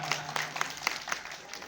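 A brief round of clapping from a gathered audience at an honours ceremony in Indore, a few distinct claps over a soft crowd murmur, faint and somewhat distant.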